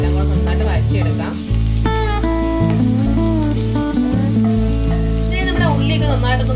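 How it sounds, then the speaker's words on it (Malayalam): Onion, ginger, green chilli and garlic sautéing in a pan for Kerala beef cutlets, a steady sizzle with stirring, heard under loud background music. "നമ്മുടെ ഉള്ളിയും ഇഞ്ചിയും പച്ചമുളകും വെളുത്തുള്ളി എല്ലാം കൂടെ നന്നായിട്ട് വഴറ്റിയെടുക്കാം"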